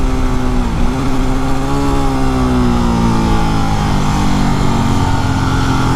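Honda Africa Twin motorcycle engine running close by, a loud continuous drone with a slight pitch dip and gentle rise in revs.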